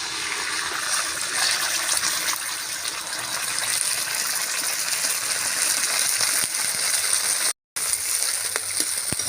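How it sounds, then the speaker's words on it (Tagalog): Ketchup pours into a pan of caramelized onions and chili for a sweet chili sauce, giving a steady wet gushing, sizzling hiss throughout, broken by one brief dropout near the end. "Ibubuhos na natin yung ating ketchup."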